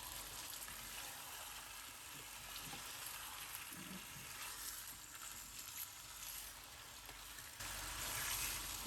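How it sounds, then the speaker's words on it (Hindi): Chicken with cumin frying in a karahi for Shinwari chicken karahi, a faint, even crackling sizzle that runs steadily and swells slightly louder near the end, with no talking. "इसको हम अच्छी तरह फ्राई करेंगे"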